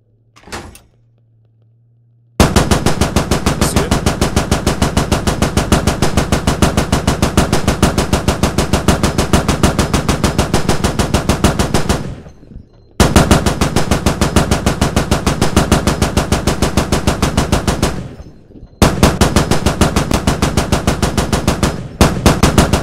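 Loud, close machine-gun fire from an armored vehicle in a video game comes in long sustained bursts, roughly ten seconds, then six, then four, separated by brief pauses.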